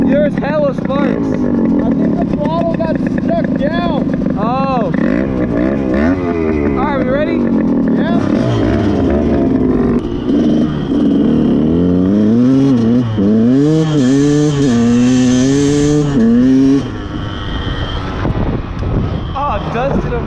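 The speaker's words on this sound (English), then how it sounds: "I think the throttle got stuck down." A KTM motorcycle engine revs hard with its throttle stuck open, a loud, continuous roar whose pitch sweeps up and down repeatedly, with voices talking over it.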